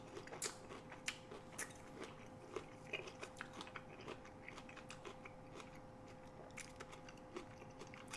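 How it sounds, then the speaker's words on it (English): Someone takes a couple of bites of a fresh peach, producing a string of soft, wet crunches and chewing sounds close to the mic, irregular and fairly quiet over a steady hum, with no talking. "I'm going to take a couple bites of this peach."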